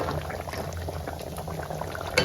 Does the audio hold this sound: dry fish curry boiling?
yes